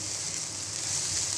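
Spices frying with rice and lentils in a pan for khichuri, a steady soft sizzle throughout with no voices.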